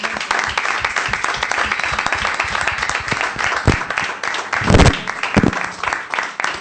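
A church congregation applauding, dense sustained clapping from a large crowd with a few cheers rising near the end, loud and close.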